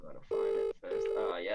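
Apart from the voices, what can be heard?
mobile phone ringing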